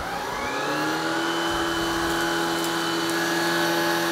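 A Shark IZ362H cordless vacuum with high brush roll and low motor setting runs continuously, a steady motor whine with tonal hum, as it picks up oats and cream of wheat.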